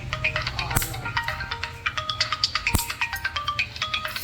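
A mobile phone rings with a repeating electronic melody of bright, evenly spaced tones, loud and close, with a couple of sharp knocks among the notes and no talking.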